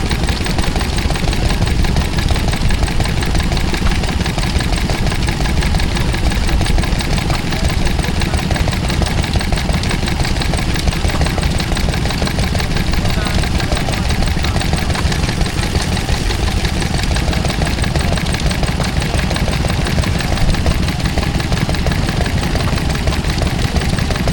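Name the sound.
Ferguson T20 tractor engine running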